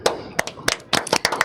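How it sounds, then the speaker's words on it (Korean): Several sparse, uneven handclaps in a small group after a book announcement, sharp individual slaps spread across a second and a half with gaps between them, close and fairly loud. "일단 박수."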